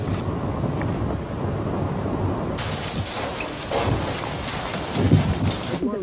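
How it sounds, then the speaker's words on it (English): Hurricane with heavy rain and violent winds, a steady dense roar of downpour and gusting wind buffeting the microphone, rising in louder surges toward the end. "It's the worst storm for several years, with heavy rain and violent seas causing severe damage."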